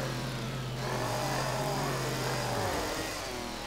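Car engine in a zombie-smashing driving video game, a steady loud synthetic hum that holds its pitch, then drops away near the end under constant game noise.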